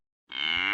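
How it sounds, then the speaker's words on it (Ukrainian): A cow on a farmyard lets out a single long, sustained moo that starts abruptly and holds loud and steady to the end, with no talking. "послухайте, як вона мукає."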